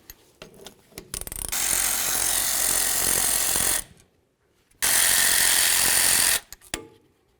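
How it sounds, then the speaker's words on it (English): A power tool rattles loose the caliper mounting bolts on the rear brakes of a 1999-2007 Ford F-250, with two loud, sustained bursts of hammering and ratcheting separated by a short pause. "the next thing I'm going to do is remove my caliper mounting bolts"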